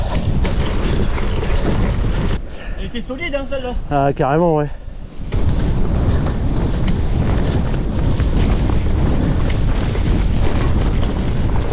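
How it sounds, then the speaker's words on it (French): Wind roars steadily across the microphone during a bike ride just after finishing a climb outside Lucheux. The rush is loud and continuous throughout, with brief talk partway through. "On retrouve le vent."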